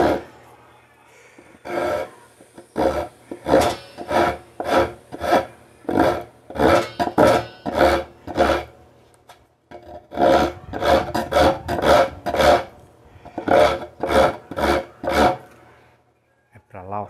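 Coarse file rasping across 15 mm marine plywood in repeated rhythmic strokes, close and loud, with a short pause midway before the stroking resumes.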